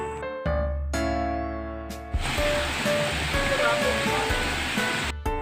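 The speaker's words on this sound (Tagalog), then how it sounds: "Sa gawing ito makikita po talaga ninyo ang ganda po ng falls nila." A waterfall feeds a natural spring-fed resort pool in Surigao, a loud, steady broadband rush of falling water that swells in after a few seconds of tonal background sounds and continues to the end.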